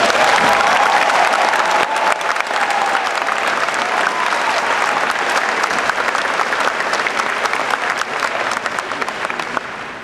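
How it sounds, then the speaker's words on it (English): A high school graduation crowd gives parents and grandparents a sustained round of applause, dense loud clapping from many hands filling the hall for about ten seconds, tapering slightly at the end. "Let's give the parents and grandparents a round of applause."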